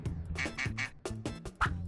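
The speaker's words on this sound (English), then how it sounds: "It's a duck." A duck quacks in a rapid series of about six loud, close, nasal calls, clear and with no talking over them.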